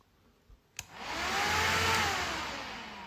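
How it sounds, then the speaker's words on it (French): A BMW S1000RR motorcycle's radiator cooling fan switches on after a click and runs as a steady, loud whirring rush close by, with no talking. "qui permet vraiment de contrôler soi-même l'allumage du ventilo"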